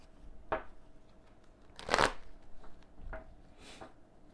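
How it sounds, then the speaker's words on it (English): Quiet bursts of tarot cards being shuffled, several short riffling swishes spaced a second or so apart, soft and close with no talking. "shuffle them on camera so that you guys can hear them being shuffled"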